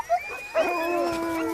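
Hungry dogs howling in a snowy mountain setting: a couple of short yips, then a sustained, wavering howl that carries on steadily, moderately close with no talk.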